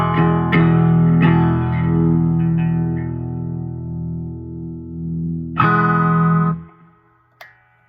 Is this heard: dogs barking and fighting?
no